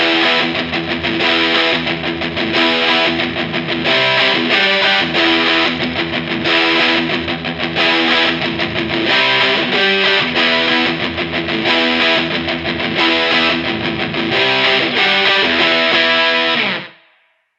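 A heavily driven electric guitar riff runs through a Walrus Fundamental Drive pedal with plenty of gain and delay, loud and dense with chugging rhythm, then rings out and stops abruptly.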